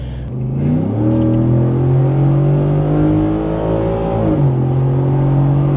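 A 2024 Ford F-150 fitted with a Pedal Commander throttle controller accelerates, its engine droning loud and near as the pitch climbs steadily, dips at a gear change near the end, then pulls on; no one speaks.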